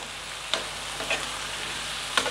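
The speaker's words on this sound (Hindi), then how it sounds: "ये देखिए हमने इसको एक बार पलट दिया है सारी सब्ज़ी को चला दिया है" Pumpkin curry frying in a pan, a soft continuous sizzle with a few brief taps of a spoon stirring the vegetables.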